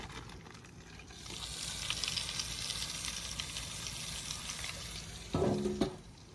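Brown sugar melting over salmon on a grill, giving a steady broadband sizzle that runs the whole time with a brief louder clatter near the end.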